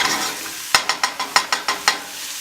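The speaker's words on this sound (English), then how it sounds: "we're just going to stir this around, get everything coated in the oil" Vegetables sweating in oil on low heat are stirred around a pan, giving about eight quick, rhythmic scrapes over a soft background sizzle, with no talking.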